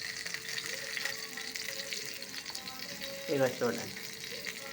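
Brinjals frying in oil in a pan, a faint steady sizzle running under a person talking, with a brief louder crackle near the end.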